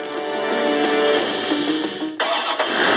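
A car engine cranks and catches, the starter whine giving way to a steady running engine with a sharp shift partway through, loud and close with no voices.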